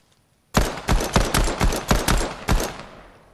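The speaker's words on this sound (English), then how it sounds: "all my shots are missing" A pistol fires in a video game in a quick uneven burst of about seven loud, sharp shots, each with a short decaying tail, then a fading ring.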